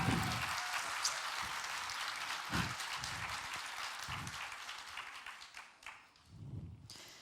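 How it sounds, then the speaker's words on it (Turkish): A studio audience applauds for a superstar guest, a soft wash of clapping that fades gradually, with a few low thumps scattered through it. "Evet, kocaman bir alkış alalım Süperstar'a."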